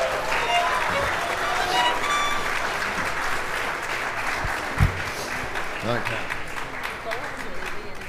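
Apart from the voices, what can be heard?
applause for the sight readers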